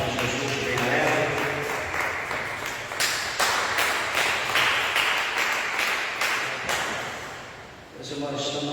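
Church congregation clapping together during an evening service, a dense steady wash of hand claps with some irregular sharper claps, fading slightly near the end before swelling again; voices may murmur underneath.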